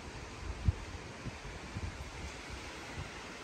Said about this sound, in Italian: così all'improvviso, folata di vento, e poi si calma